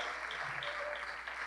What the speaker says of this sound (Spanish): Aleluya, dele fuerte las palmas al Señor.